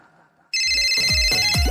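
A telephone starts ringing abruptly after a quiet moment, a loud, close electronic bell tone repeating in quick pulses for the rest of the moment, with no one talking over it.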